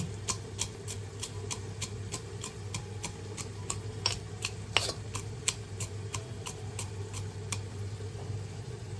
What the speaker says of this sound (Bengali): আমরা বাদামটাকে হামানদিস্তায় অল্প থেতো করে নিচ্ছি